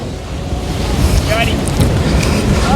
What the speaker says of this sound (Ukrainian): близько підходити не можна, тому що зараз теж шторм і хвилі